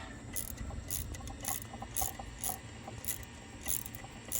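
A ratchet loosens rusty coil pack bolts on a Ford Explorer, giving quiet, close, rhythmic clicking bursts about every half second with no voices.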